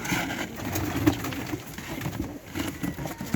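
Pigeons coo in a loft, soft repeated throaty calls from several birds layered over rustling and a low background hum, close and continuous.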